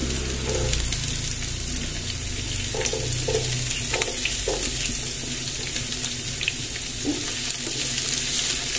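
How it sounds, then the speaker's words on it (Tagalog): Chopped onions sizzle in a hot pan for chicken afritada, a steady close frying hiss broken by the scrape and clatter of stirring, with no voices. "Lagay na natin si sibuyas. Haluluin na natin hanggang sa mamula."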